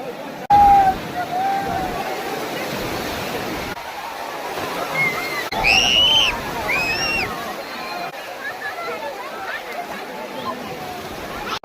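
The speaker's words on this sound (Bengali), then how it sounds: "তো সমুদ্রের মতো জলে চলে এলাম" Sea water sloshing and washing at Puri beach, a steady wet churn throughout with a crowd's babble and voices mixed in, and a brief higher cry partway through.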